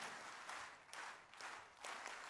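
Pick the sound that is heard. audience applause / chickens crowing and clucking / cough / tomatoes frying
audience applause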